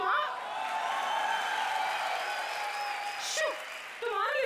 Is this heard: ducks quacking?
no